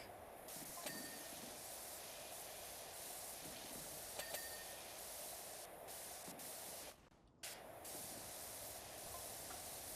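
A pressure washer sprays a car in the video game PowerWash Simulator 2, a steady broad hissing jet that runs continuously at moderate level, briefly cutting out for a moment before resuming.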